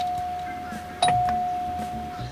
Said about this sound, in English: If you listen closely up by the dash, you can hear the little bell plunger going ding.